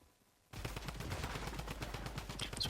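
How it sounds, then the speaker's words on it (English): Rapid, sustained automatic fire from a drum gun in the video game Fortnite starts abruptly after a brief quiet and continues as a dense rattling burst of shots. "So it sounds like this guy actually has the drum gun here"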